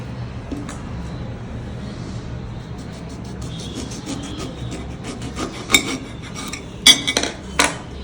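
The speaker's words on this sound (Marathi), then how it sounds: "तर आता पहिल्यांदा आपण हे मोसंब कापून बघूया आतनं कसं आहे" A knife slicing through a sweet lime picked from a terrace-grown tree, soft scraping and rubbing strokes close by with a few sharp clicks toward the end, no talk.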